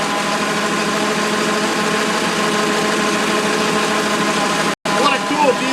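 A Ford Model T engine runs steadily, close and loud, with a dense, continuous rumble that cuts out for a split second near the end before resuming.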